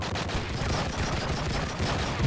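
Gunfire from shooting zombies in the video game True Crime: Streets of LA, a dense continuous burst of rapid shots with a rumbling low end throughout.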